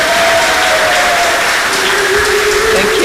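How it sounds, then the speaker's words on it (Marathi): An audience gives a loud, dense round of applause for Dr. Sanjay Zope, steady clapping from a crowd close by, with a faint tone humming underneath. "डॉक्टर संजय झोपे यांच्यासाठी एकदा जोरदार टाळ्या होऊन जाऊ द्या."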